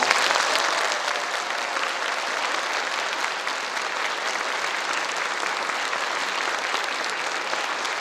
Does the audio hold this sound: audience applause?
yes